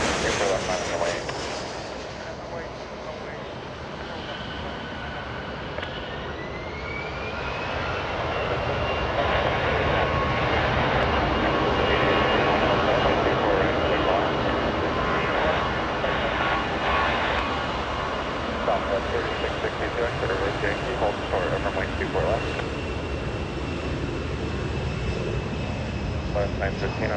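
A jet airliner takes off from runway 24 left at Los Angeles International Airport, its engines building from a distant whine to a sustained roar that swells and fades, with radio chatter and talk over it.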